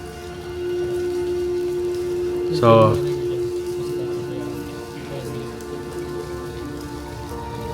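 Steady rain falls at night over an abandoned cemetery, a constant close wash of drops with a brief louder burst partway through and a voice speaking briefly.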